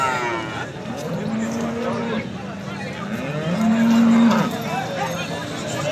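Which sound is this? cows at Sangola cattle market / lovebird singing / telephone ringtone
cows at Sangola cattle market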